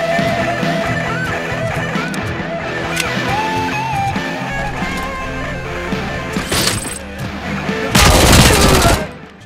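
Rapid gunfire bursts from RoboCop: Rogue City on PS5, dense over game music and effects, ending in a loud crashing burst near the end.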